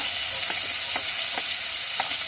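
Ginger sautéing in a hot pan for balbacua: steady, close, bright sizzle with faint rhythmic scraping of a utensil about every half second, no voices.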